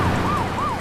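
A police car siren wails in a rising and falling tone, repeating twice in under a second, loud and close, with some wind noise and no talking.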